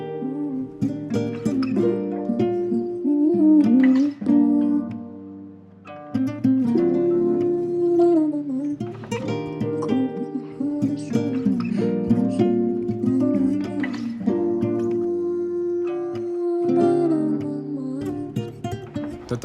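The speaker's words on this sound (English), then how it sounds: "I arranged the little vocal slices and it sounded like this." Chopped vocal slices arranged over a guitar R&B sample play as a melodic loop of sung fragments over sustained tones, with no one speaking.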